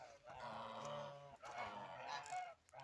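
A gander honks repeatedly in loud, harmonic nasal calls in a snowy yard, a run of honks, a pause, then another burst, close by with no talk.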